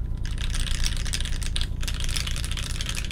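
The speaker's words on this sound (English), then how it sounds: "typing feels silly, feels good, looks good" Rapid, continuous typing on a Keycult No2 custom mechanical keyboard with a strongly reverberating plate, its dense clacks running close and steady throughout with no talking.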